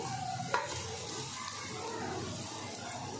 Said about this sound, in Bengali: এবার আমি এখানে ঘষে রাখা রসুন আর আদাটা দিয়ে দেব।